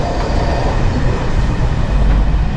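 Dogu Express passenger train rolling across eastern Turkey, heard from inside the carriage as a continuous loud rumble of wheels on rail with low rocking noise and faint clatter, close and steady, without talk.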